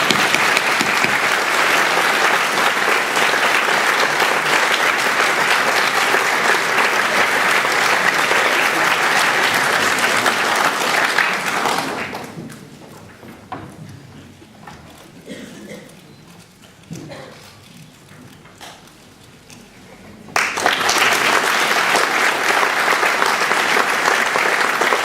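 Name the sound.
audience applause at a school prizegiving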